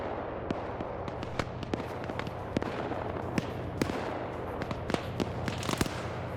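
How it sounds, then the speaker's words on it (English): Dense, rapid bursts of video game machine gun fire, PKT tank guns, crackle over a continuous low engine rumble, sharp reports scattered irregularly throughout, moderately distant. "You're hearing the PKTs on that thing starting to engage."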